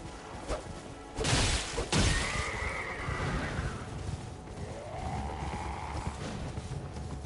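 A horse whinnies in the action role-playing game Elden Ring, two drawn-out rising and falling neighs at moderate loudness over a busy game backdrop with a couple of sharp thuds, with no voices.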